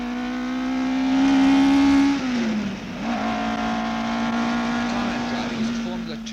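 A racing car laps Silverstone circuit at speed, its engine note holding a loud steady tone, dropping briefly as it lifts or shifts, then rising again, with someone talking over it.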